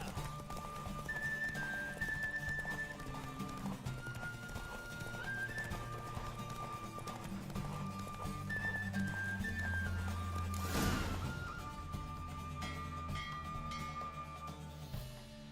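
Horse hooves clip-clopping at a steady galloping rhythm in The Witcher 3, close and continuous over game music, with a brief whoosh of rushing air partway through.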